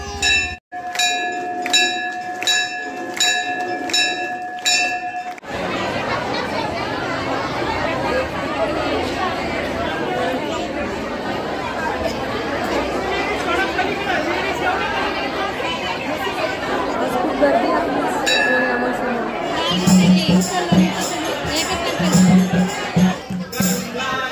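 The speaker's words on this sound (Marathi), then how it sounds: "आरती चालू झालेली आहे. बाहेरपर्यंत गर्दी आहे आज." A dense crowd murmurs and chatters inside a packed temple during evening aarti, a steady babble near and far, with ringing bell tones at the start and again toward the end.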